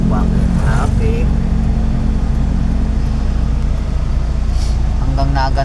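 Heavy road traffic on a highway near Lopez, Quezon, heard from inside a vehicle: a loud, constant engine and road rumble fills the clip, with people talking over it at the start and end.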